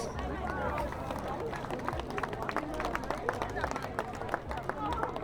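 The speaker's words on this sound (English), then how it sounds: "Round of applause for your Dunghutti Connections team, please." Spectators at a Murri versus Koori women's match clap for the Dunghutti Connections team, a busy patter of hands mixed with crowd chatter and shouting voices.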